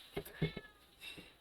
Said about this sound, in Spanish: tengo una de mis gatas que necesita que le abran la puerta